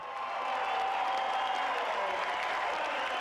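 Large crowd at an annual track meet, a steady loud wash of cheering and applause that holds throughout as sprinters line up for the 100 metres.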